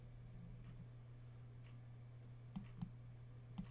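Computer mouse clicking Save three times, three quick, faint, sharp clicks near the end over a low steady electrical hum.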